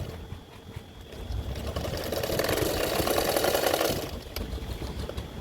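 A sewing machine stitches a katori blouse, whirring in a steady motorised run that swells for about two seconds in the middle and then stops, with quieter mechanical ticking before and after.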